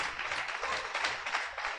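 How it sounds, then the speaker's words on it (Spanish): A church congregation applauding a woman named Alma: a short burst of dense, steady clapping from many hands, moderately loud and continuous for under two seconds. "démosle un aplauso a Alma"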